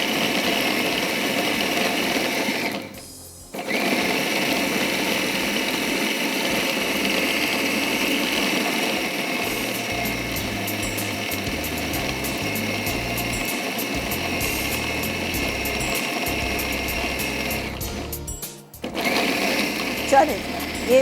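An electric grinder blends a fine masala paste for Balochi rice with a steady, loud mechanical whir. It cuts out briefly twice and then starts again.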